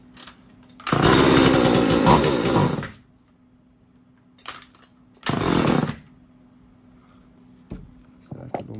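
Stihl or Husqvarna chainsaw, an old saw restored from a scrap pile, after its idle screw was wound out: two loud revving bursts, one about two seconds and a shorter one, with a low steady idle between and after.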